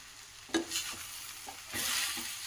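Okra fry being stirred in a pan with coriander leaves and a little water, a few scraping strokes of a spatula over a soft sizzle that swells louder near the end.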